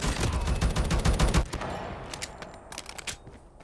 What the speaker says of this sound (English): I started shooting after they did.